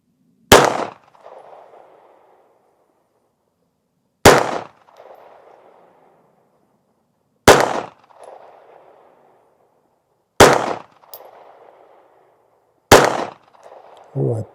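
Five sharp pistol shots from a Smith & Wesson M&P 380 Shield EZ M2.0 Performance Center at a range, each a loud close crack with a short ringing tail, spaced about three seconds apart.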